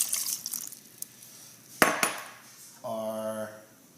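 Water pours into a KitchenAid mixer bowl holding flour for pretzel dough, a short steady splash near the end that follows a few clinks and knocks of utensils against the bowl.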